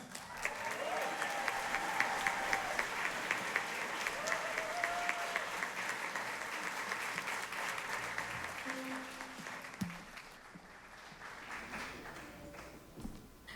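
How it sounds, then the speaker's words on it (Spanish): Sustained applause from a crowd at a tribute concert fills the clip, loud and continuous, fading a little toward the end, with faint voices and music underneath. "un aplauso para Olga Antoinette."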